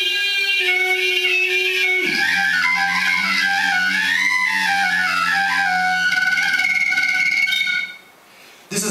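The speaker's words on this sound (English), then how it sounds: "This is me singing a tone through a penny whistle." A steady, reedy whistle-like tone sung through a penny whistle, held and then gliding through several pitches with a buzzing, sung quality, before cutting out near the end.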